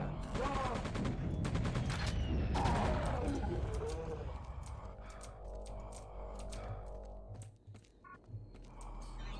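Assault rifle fire in Quake II RTX: a rapid burst of close automatic shots in the first few seconds, then a fading, reverberant tail and low rumbling game ambience with scattered faint effects.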